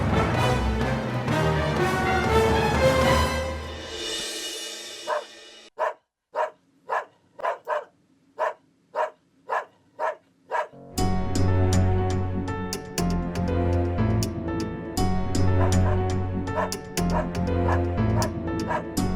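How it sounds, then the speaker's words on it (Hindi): A dog barks in a rapid series of sharp, regular yips, mixed with whimpering, set between stretches of loud background music in a Hindi superhero TV episode. "ये तो ब्रूनो की भौंकने की आवाज लगती है।"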